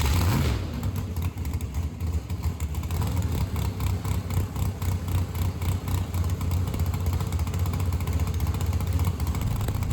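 A race car engine running and revving in a shop, a loud steady rumble with repeated rhythmic pulses of throttle rising and falling over ten seconds, close to the listener.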